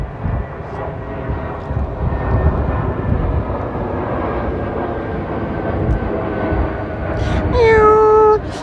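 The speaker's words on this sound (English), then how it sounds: "Airplane, one moment." A fixed-wing airplane roars overhead on the Heathrow flight path as a steady, loud, broad engine rumble lasting throughout, with a brief higher tonal sound near the end.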